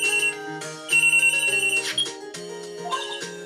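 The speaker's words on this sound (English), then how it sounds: "Oh, my cell phone." Electronic cell phone ringtone from the Phoenix Wright Ace Attorney video game, a bright chiptune melody of stepped synth tones repeating in short phrases, loud and alone.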